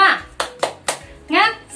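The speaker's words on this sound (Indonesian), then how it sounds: "Tepuk semangat." Young children in a classroom perform tepuk semangat, a chanted clapping routine: a few crisp, evenly spaced claps between shouted voices.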